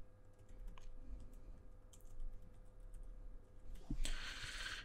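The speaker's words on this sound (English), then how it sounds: "And I would need to type in a password first." A password typed on a computer keyboard: sparse, faint key clicks over a quiet room hum, with a louder burst of clicking right at the end.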